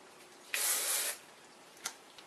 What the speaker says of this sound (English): spray it on my bangs as well